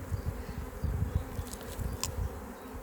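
Honeybees hum steadily around an open hive during an inspection, a low continuous buzz close by with a brief sharper tone rising briefly above it.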